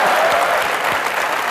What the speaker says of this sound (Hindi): ठोको ताली